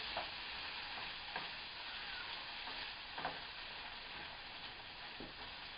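Vegetables sautéing in bacon fat in a pan, a soft continuous sizzle with a few light stirring scrapes, faint and close, no voices.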